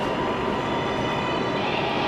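A New York 7 local subway train bound for Flushing–Main Street rumbles steadily from inside the car, a broad continuous roar with a faint high whine.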